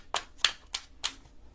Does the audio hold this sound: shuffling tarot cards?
yes